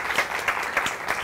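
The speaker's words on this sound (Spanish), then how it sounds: "Un fuerte aplauso para ustedes." Studio audience applause at a cooking show, a steady dense patter of clapping hands filling the short clip with no voices on top.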